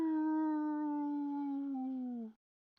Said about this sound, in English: the baleful howls begin to sound in a circle around you